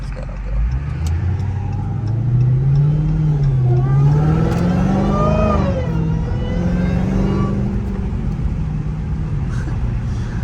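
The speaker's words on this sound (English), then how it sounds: "That supercharger Whine." A Dodge Hellcat's supercharged engine pulls hard on a highway drive, its low rumble rising and falling with a steady supercharger whine on top, loud and close from inside the car with the window open.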